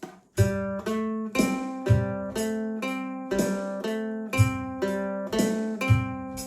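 A ukulele plays a repeating picked pattern, bright plucked notes rising and falling in an even rhythm, close and solo.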